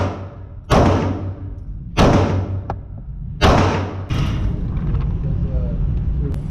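Handgun shots fired at a target from 15 feet, three loud sharp reports spaced about a second and a half apart, each with a ringing decay, over steady background noise.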